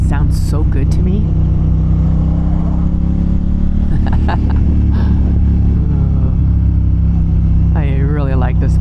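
A Honda 750 Hornet motorcycle fitted with a new exhaust runs with a loud, steady, deep engine drone and throbbing rumble throughout, while a person talks over it.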